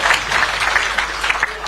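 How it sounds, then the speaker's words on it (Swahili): Applause from a crowd at a political rally in Nakuru, Kenya: steady clapping from many hands, loud and continuous, with no clear voices above it. "Makofi kwa former MP."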